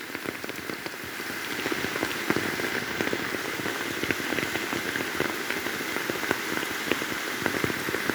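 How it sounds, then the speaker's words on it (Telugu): Steady rain patters all around in a forest at Venkatayapalem, dense drops falling on leaves and ground in a continuous wash, with occasional louder drips close by. "కానీ వర్షం రావటం వల్ల"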